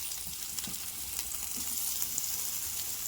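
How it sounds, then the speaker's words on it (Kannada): Capsicum frying in hot oil in a kadai; a soft, steady sizzling hiss heard close up and alone, with no talking. "ಕಡಾಯಿಗೆ ಎಣ್ಣೆ ಹಾಕಿ ಕಾಯಿಸ್ಕೊಂಡಿದ್ದೀನಿ ಇವಾಗ ನಾನು ಕ್ಯಾಪ್ಸಿಕಂ ಕ್ಯಾಪ್ಸಿಕಮ್ ಹಾಕ್ಕೊಂಡಿದ್ದೀನಿ ಇದನ್ನು ಸ್ವಲ್ಪ ಎಣ್ಣೆಯಲ್ಲಿ ಫ್ರೈ ಮಾಡಿ"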